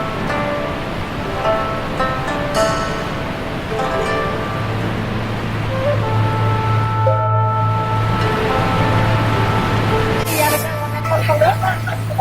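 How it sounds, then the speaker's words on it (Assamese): Elephant Falls waterfall in Shillong gives a steady, loud rushing roar of falling water throughout, with people talking over it. "এলিফেণ্ট ৱাটাৰফল পালোঁ, ইয়াত বজাৰো আছে।"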